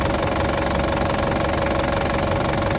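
A warm Isuzu D-MAX 2.5 turbo diesel engine idles steadily, a loud, constant clattering rumble with an even diesel knock and no voices.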